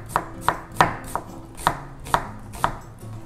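A knife thinly slicing an onion on a cutting board for round cabbage kimchi: about seven crisp, evenly spaced chops close up, with no voices.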